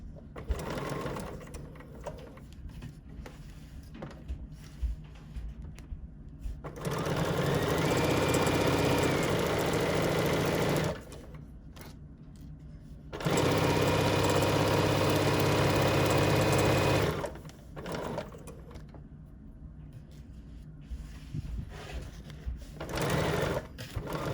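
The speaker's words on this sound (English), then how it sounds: "So I'm just stitching this just to hold everything in place nicely." Sewing machine stitching fabric layers of a notepad holder in two long, steady runs of rapid mechanical whirring, with quieter handling and rustling sounds before, between and after the runs and no talking.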